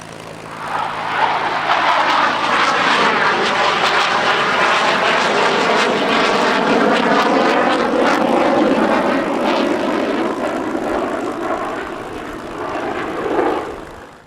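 A Canadian CF-18 Hornet fighter jet roars loud and continuous during an airshow display at the Quinte International Airshow, its engine noise rising and falling in a broad rumbling sweep as it passes.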